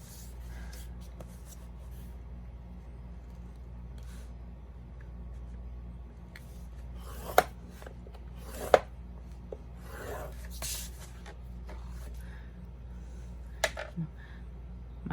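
Plastic score tool drawn along paper while making a mini album, giving a soft, steady rubbing scrape with a few sharper clicks and taps, close and quiet, with no talking.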